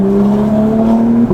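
A Porsche 991 GT3 with a Soul Performance exhaust holds a loud, steady high-rpm engine note up close on a cold day, without clear separate pops.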